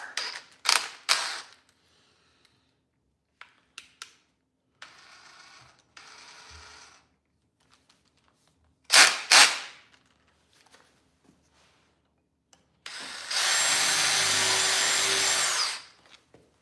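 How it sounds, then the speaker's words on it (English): Bursts of a power drill whirring in short spurts between silences as it drills wood, ending with a longer, louder sustained drilling run close by. "I wonder if I can get this drill bit out just a little bit farther."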